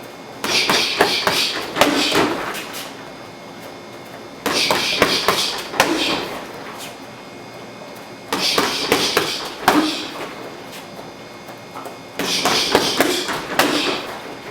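Muay Thai lead-leg low kicks hit a pad in four bursts about four seconds apart. Each burst is a close cluster of sharp, solid thuds, with no talking.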